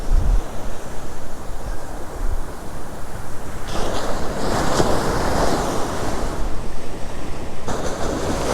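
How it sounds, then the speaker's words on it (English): Wind blows steadily at the seaside during a post-storm fishing session, rumbling across the microphone over continuous surf, with gusts swelling in the middle. "Wind's increasing slightly, it might be at 10 to 12 knots now."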